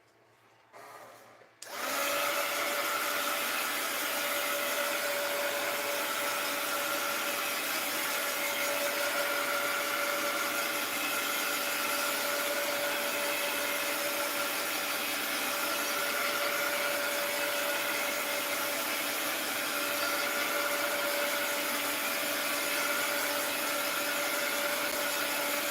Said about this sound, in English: Now, I'm going to hit this with the heat gun just to, because I want to paint over it.